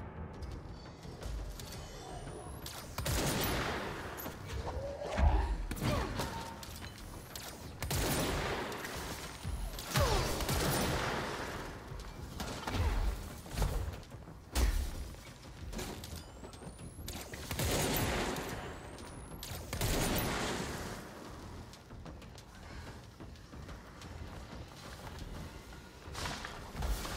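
Gunfire in the video game Control rattles in repeated bursts, sharp loud volleys separated by brief quieter gaps, with mechanical clatter in between over a long stretch.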